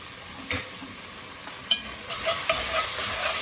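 Broccolini cooking in a hot pan gives a steady sizzle and hiss, with two sharp spoon clinks and stirring rustles over the close, continuous frying.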